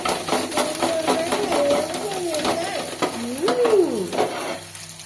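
Food stirred and fried in a pan at home, with a continuous sizzle and repeated scraping stir strokes, close, while a voice talks over it.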